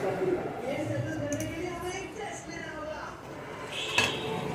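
A metal griddle pan clanks and scrapes as it is handled, with a sharp clink near the end, while someone talks over it.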